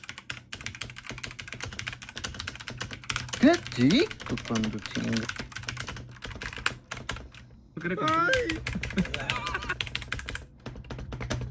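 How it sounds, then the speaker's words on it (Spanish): Rapid clacking of a mechanical keyboard continues throughout, with a person talking over the keystrokes at times. "ahí va la prueba del teclado mecánico, escuchen este ruidazo."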